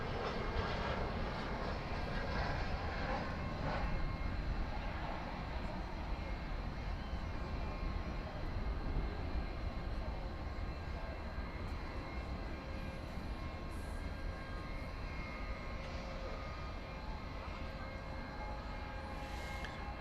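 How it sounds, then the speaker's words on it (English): Turkish Airlines Boeing 787 Dreamliner jet engines rumbling while taxiing at night at DFW Airport, a steady broad roar and whine heard from a distance, continuous and even throughout. "So Turkish flight 192 to Istanbul, 7879 Dreamliner, is now taxiing northward on a taxiway adjacent to runway"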